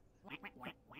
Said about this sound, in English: Gonna hear these quacks in my fucking nightmares